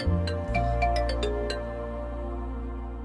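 A phone ringtone plays a short melodic run of bright chiming notes in its first half, then sustains a loud, steady tone for about three seconds, with no voices.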